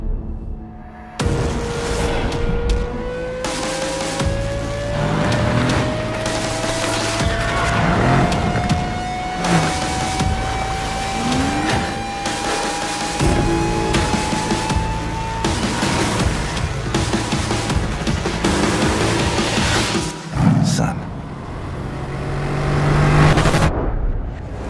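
A Mercedes-AMG GT C Roadster drives hard, its engine climbing steadily through the revs in one long pull with a throaty, loud exhaust, close and continuous, easing briefly before building again near the end.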